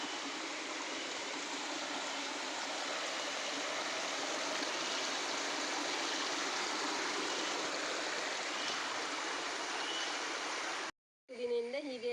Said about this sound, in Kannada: ಕೆಸರು ನೀರು ಬರ್ತಾ ಉಂಟು